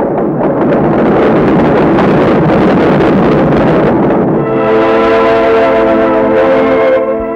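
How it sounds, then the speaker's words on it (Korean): A refugee train departs from a wartime station, giving a loud, continuous mechanical roar and rumble with no speech. Midway it shifts to sustained tonal whistle-like harmonics. "이윽고 기차는 떠납니다."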